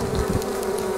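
Honeybees out on a cleansing flight on an early March day buzz steadily and close by around the hive entrance, a continuous droning hum with no voices.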